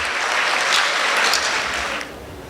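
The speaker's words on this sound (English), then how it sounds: "give yourselves a round of applause because you all are the first." Students in a school hall at a wellness event give themselves a round of applause. The crowded clapping is full and steady, then thins and softens near the end.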